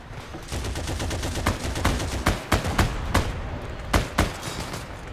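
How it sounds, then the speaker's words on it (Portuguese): Rapid gunfire in the online shooter Heroes and Generals, with a loud steady crackle of shots and several sharper nearby bangs standing out over a dense battle din. "É muito tiro."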